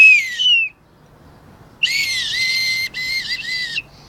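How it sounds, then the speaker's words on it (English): A child whistles two separate times, a short high whistle and then a longer, louder, wavering one that breaks briefly partway through, close and clear with no talking. "I can whistle louder."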